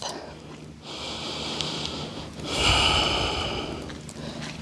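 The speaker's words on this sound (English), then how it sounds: "Taking a breath." Deep breaths during a yoga flow, a few long airy inhales and exhales close to the microphone, one fuller breath swelling louder near the middle before easing off.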